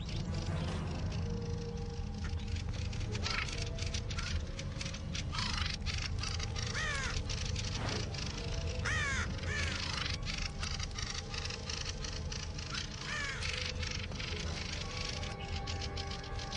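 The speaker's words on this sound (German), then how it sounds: "Einer der Vögel kreischt aggressiv und droht dem Eindringling." Thrushes screech and chatter harshly while mobbing a raven, a dense continuous chorus of overlapping calls and scolding cries, fairly loud and close throughout with no speech.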